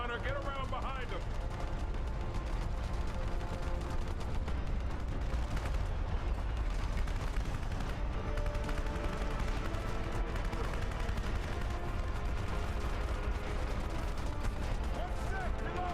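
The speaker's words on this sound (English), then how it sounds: "Let's try a rocket launcher." Rocket launcher fire and heavy combat in the Terminator Salvation video game, a dense continuous barrage of blasts and gunfire with explosive low rumble, loud and sustained.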